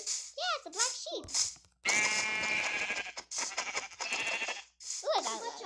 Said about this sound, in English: Yeah, it's a black sheep.